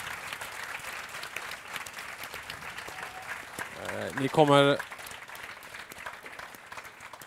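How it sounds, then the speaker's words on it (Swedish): Applause from an audience greeting a panel at a Swedish-language talk event, building into a brief louder burst near the end, with a voice speaking over the clapping. "jag vill att ni ger en varm applåd till denna modiga panel"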